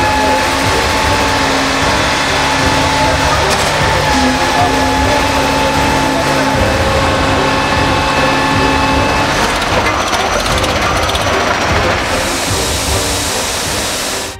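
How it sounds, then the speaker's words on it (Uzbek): Heavy construction machinery at a building site, with trucks dumping loads, makes a loud, continuous broadband roar with crunching and rumbling, steady throughout and slightly shifting toward the end. "Haqiqatan ham texnikalarning shovqini baland."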